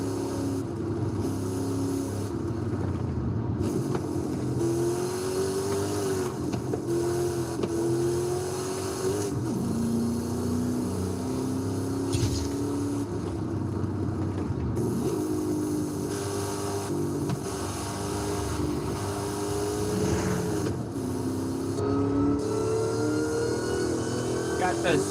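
A supercharged car cruises at night in the racing game Forza Horizon 5, its engine drone and whine climbing through each gear, then dropping at every shift, across the whole stretch.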